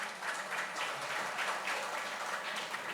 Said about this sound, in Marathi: जोरदार टाळी जाऊन जाय